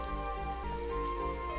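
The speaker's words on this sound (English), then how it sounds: "And here come aforementioned rains." Rain falls at night on Mars in the Surviving Mars game, a dense steady patter over a low continuous rumble, with no voices.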